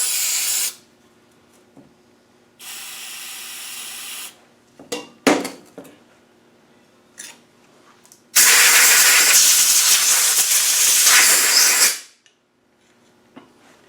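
Compressed air or spray blasts through a brake caliper port during a brake caliper rebuild on a Land Rover 110, coming as loud close hissing bursts: a short one, a longer one, scattered puffs and a long sustained blast.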